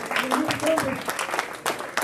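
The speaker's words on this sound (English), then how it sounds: "Round of applause for the rookies." A round of applause from the audience at a Rotary club meeting, with brief bursts of clapping mixed under a speaker's voice.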